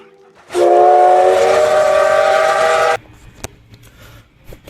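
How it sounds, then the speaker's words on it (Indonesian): A steam train sounds a loud, sustained whistle for about two and a half seconds, close and piercing, then it cuts off, leaving faint clanks and rumble behind. "muncul sebuah kereta uap yang mengarah ke desa orang tua Mitsue"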